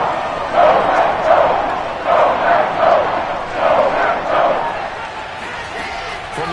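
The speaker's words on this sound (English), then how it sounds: "Crowd getting in a bit already." Stadium crowd at a Packers vs Jets football game, rising in several loud swelling roars during a third down, with a steady noisy wash of fans underneath.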